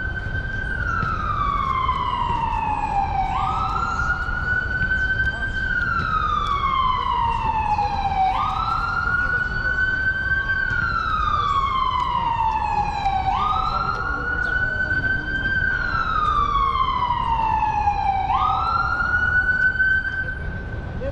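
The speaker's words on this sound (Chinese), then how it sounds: "救护车过来了" An ambulance siren passes along a New York street, sweeping up and down in a repeating wail about every five seconds, loud and close over steady traffic noise.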